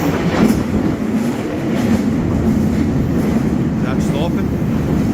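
A metro train arriving at a station, a loud continuous rumble with rhythmic clatter from the rails filling the whole stretch, with a voice faintly in the background.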